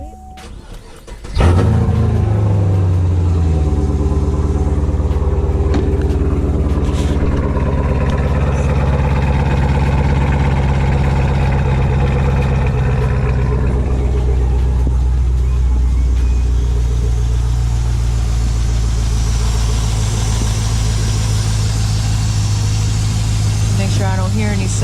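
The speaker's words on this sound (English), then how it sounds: "I'm gonna go ahead and start the car" A car engine cranks and catches after a freshly installed oil catch can, then settles into a steady, loud idle close by that runs throughout, with a faint hiss of air and a person talking over it.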